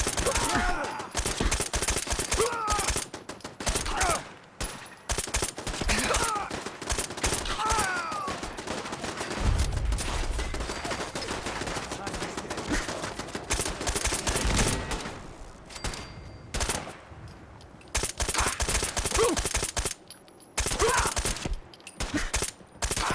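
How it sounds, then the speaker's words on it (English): Dense, rapid gunfire from the video game Fallout 4 rattles almost continuously, with bursts of automatic fire and louder impacts, briefly thinning out in places before resuming at full intensity. "at least I can actually shoot stuff now."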